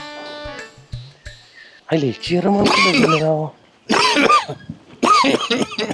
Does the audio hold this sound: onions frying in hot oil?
no